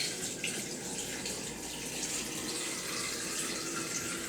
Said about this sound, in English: So we're just going to pour this on top of the eggs.